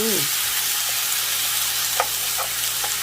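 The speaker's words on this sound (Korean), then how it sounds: "채소를 볶다가 다진 마늘을 한 큰술 넣어줬어요" Vegetables and a spoonful of minced garlic stir-frying for tteokbokki, a steady close sizzle with a few soft stirring scrapes and no talking.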